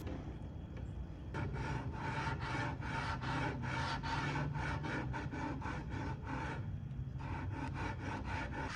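Hand sanding along the edge of painter's tape on a Lane cedar chest top, with rhythmic back-and-forth rasping strokes, steady and close, and no voices.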